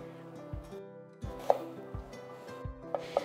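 A knife chops vegetables into strips about 1 cm wide on a cutting board, with about six crisp, evenly spaced thuds close by and faint scraping between them.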